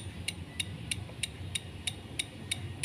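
Relay in a homemade inverter fish-shocker circuit clicking at an even pace, about nine sharp, faint ticks spaced roughly a third of a second apart over a low background hum.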